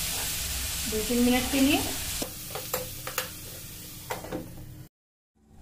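Tomato and masala gravy sizzles and is stirred in a pan for a lokki kofta curry, a steady close frying hiss with scraping stirs and a few clinks, a short spoken phrase over it before it cuts to silence.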